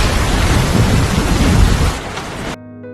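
A loud thunderstorm with heavy rain and deep rumbling thunder fills the first two seconds, then eases off before the storm noise cuts out abruptly into a quiet hum.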